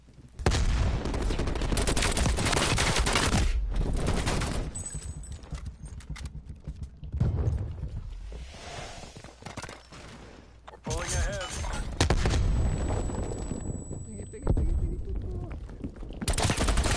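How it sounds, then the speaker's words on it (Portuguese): Bursts of rapid automatic AK rifle fire from Call of Duty Black Ops Cold War, loud and repeated in several volleys separated by short quieter gaps. "O cara tancou um monte de tiro de AK."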